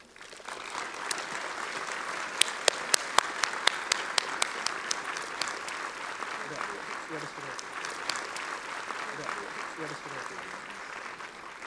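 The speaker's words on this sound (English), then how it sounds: "Please welcome Kengo Kuma with a big round of applause." Audience applause welcoming an architect at an evening lecture in Athens, a soft, even patter of many hands with a few sharp nearby claps, continuing throughout.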